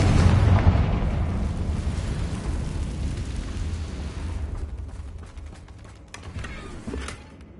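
Confringo fire spell bursts in a Hogwarts Legacy game battle, a loud, deep explosive boom that rolls into a long rumbling decay over several seconds, with faint crackles near the end.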